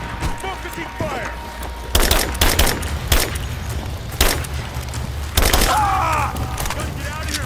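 Sharp bursts of gunfire crack out at intervals in a Rise of the Tomb Raider firefight, with several loud volleys standing out over a steady low rumble of battle ambience and scattered speech.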